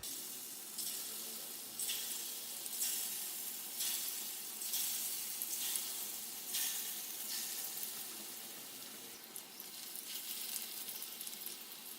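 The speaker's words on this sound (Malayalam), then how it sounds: "ഇതുപോലെ നമുക്ക് ബാക്കിയിരിക്കുന്ന വടകളും ഫ്രൈ ചെയ്തെടുക്കാം" Prawn and potato vadas deep-fry in hot oil with a steady, dense sizzle that swells in rolling waves, close and continuous.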